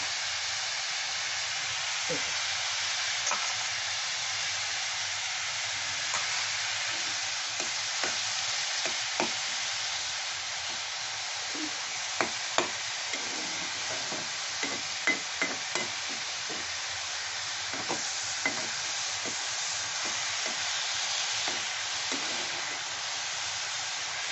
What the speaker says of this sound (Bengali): এই চিংড়ি মাছটা এই তেলটার মধ্যে আমি দিয়ে দেবো